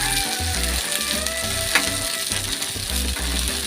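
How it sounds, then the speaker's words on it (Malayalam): Bird's eye chillies crackle and sizzle loudly in hot oil, with a sharp pop near the middle and low rhythmic thumps underneath. "കാന്താരി മുളക് എണ്ണയിലിട്ട് കുറച്ച് കോരണം"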